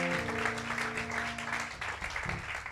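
A church congregation claps to acclaim Jesus in dense, sustained applause. Sung or held voice tones sit underneath at first, then fade as the clapping continues.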